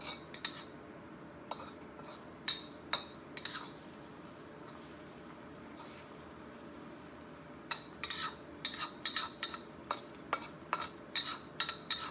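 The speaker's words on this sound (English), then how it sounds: "fry it until it's solid for the most part" A wok clatters and scrapes as egg fries for special fried rice with shrimp and Chinese sausage, with quiet stretches broken by bursts of sharp metallic spatula strikes that grow quicker toward the end, no voices.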